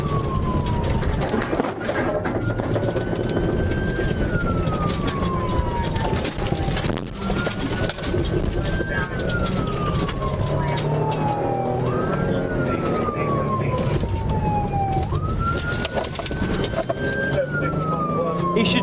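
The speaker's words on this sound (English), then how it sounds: "He should turn the lights and sirens off." A police siren wails in repeated rising and falling sweeps over loud, steady traffic and road noise, with voices faintly mixed in.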